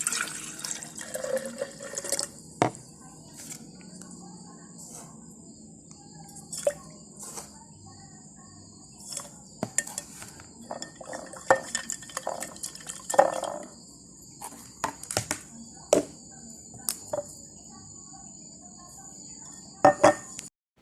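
Water and sugar being mixed in a chemistry lab, with scattered drips, small splashes and clinks of liquid in a container, irregular and fairly quiet against a hushed room.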